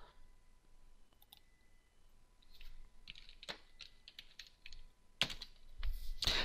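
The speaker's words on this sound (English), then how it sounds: "We can type it in the search bar in the class browser." Keyboard typing into a search bar in a modelling program: soft, scattered keystrokes at first, then a few louder, sharper clicks and taps toward the end, close and alone with no talk.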